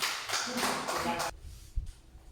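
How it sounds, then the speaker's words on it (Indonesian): A classroom group of students claps hands together in a loud burst of dense, overlapping claps lasting just over a second, then it stops abruptly, leaving quiet room noise with a single low thump. "Sekarang kita tepuk tangan."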